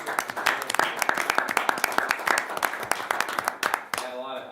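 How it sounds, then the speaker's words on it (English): Applause at a city council meeting, a dense spread of many hands clapping steadily for several seconds, with speech mixed in around it. "A round of applause"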